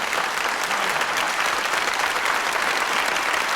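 A TV studio audience in a 1988 French variety show applauds in a continuous, even burst of close, crisp clapping without pause.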